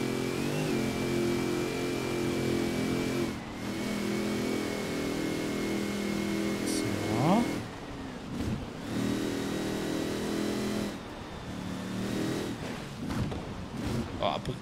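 A V8 car engine in Forza Horizon 4 holds a steady, loud drone, dips as the driver shifts, then swells again with sweeping pitch changes, while someone talks over it.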